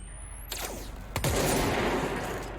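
Gunshots from the video game Control, fired at lights in a lab area, a quick sharp report followed by a louder blast that rings out into a sustained rumbling wash.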